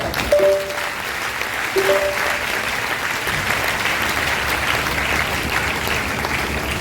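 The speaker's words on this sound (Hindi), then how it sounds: "ताली हो जाइए" A crowd claps steadily for several seconds at a business training meeting, a dense patter of many hands that holds at an even level throughout.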